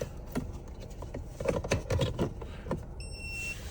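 A TOPDON AD800BT V2.0 automotive scanner gives a short, clear electronic beep when its VCI plugs into a car's diagnostic port, after a few seconds of clicks and handling noise.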